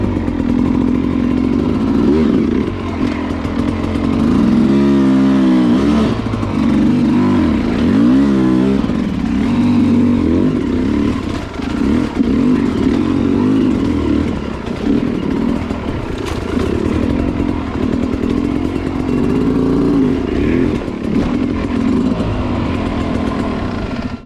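A hard enduro dirt bike climbs rocky terrain with its engine droning loud and close throughout, revving up and down in rises and dips over continuous wind and rumble.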